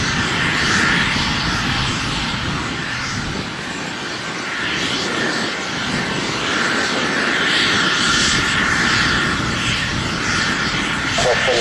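Loud, steady roar of airliner jet engines close by at Tampa International Airport, a continuous rushing drone that swells slightly and holds throughout.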